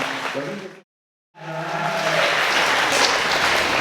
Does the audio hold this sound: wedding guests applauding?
yes